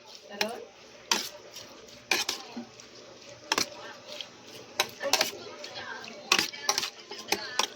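Kilawing dilis being mixed with cucumber in a bowl, with scattered sharp clinks and scrapes of a utensil at an irregular rhythm over soft background noise.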